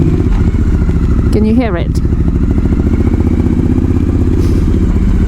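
A custom Triumph Thruxton R street tracker with an aftermarket exhaust idles nearby in a steady low, throbbing rumble. Someone talks over the engine throughout.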